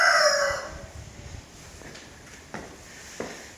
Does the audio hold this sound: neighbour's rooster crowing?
yes